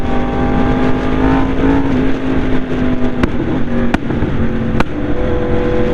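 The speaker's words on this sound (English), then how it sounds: "I'm going to try and educate you how to engine brake while I ride to the petrol station" A motorcycle ridden on the road toward a petrol station, its engine holding a steady droning tone with pitch dips and blips as gears change and it engine-brakes, with wind rushing past throughout.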